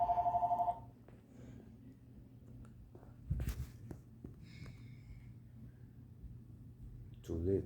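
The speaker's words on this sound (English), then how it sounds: "Answer the damn phone." A telephone rings in a short, rapid electronic trill at the start and again briefly at the end, fairly faint over a steady low hum with scattered knocks in between.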